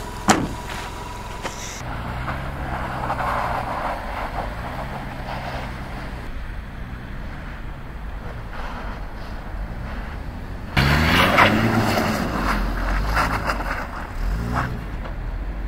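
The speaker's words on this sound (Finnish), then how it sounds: "katsotaan, miten tämmönen takapotku lähtee tossa lumen päälle" A rear-wheel-drive Toyota Hiace van pulls away on snow, its engine a steady low drone that swells and rises in pitch as it drives off, growing louder near the end.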